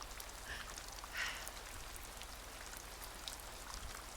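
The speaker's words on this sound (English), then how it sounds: "Oh, now we can listen to rain." Rain falls in a soft, steady patter of drops, faint and even, with a few slightly louder spatters standing out from the continuous wash.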